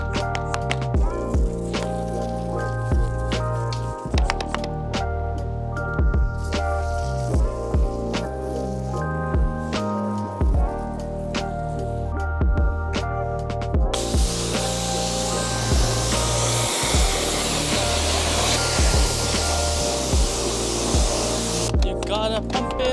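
A pressure washer sprays car wheels during a maintenance wash of an RWB car, a steady loud hiss of water blasting off wheel cleaner and dirt, running continuously with brief shifts in tone as the spray moves.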